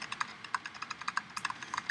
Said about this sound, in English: she was typing at an incredible speed, the click-clack of the keys running together like machine gun fire